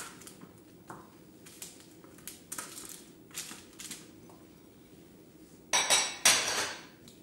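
Raw radishes, trimmed and washed, tumbled and spread across a metal baking sheet, making clattering, rattling bursts of hard produce hitting the tray, loudest near the end, after a quieter stretch of light knocks.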